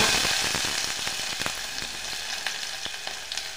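Cumin, mustard seeds, chopped garlic and onion sizzle and crackle steadily in hot oil for a spicy matki curry, with scattered sharp pops over a dense, close frying hiss and no talk.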